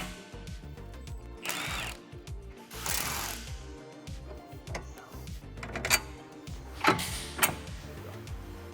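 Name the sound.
21mm socket removing bolts from Tesla Model 3 control arm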